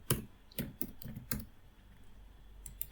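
Typing Hello World on a computer keyboard: a short run of close, crisp key clicks in an uneven rhythm, then a pause and two final taps.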